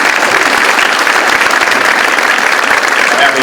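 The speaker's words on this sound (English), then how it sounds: "Let's have a round of applause for our Marines." A crowd at a Veterans Day ceremony applauds Marines, producing loud, continuous clapping that fills the whole stretch with an even, dense roar of hands and no pauses.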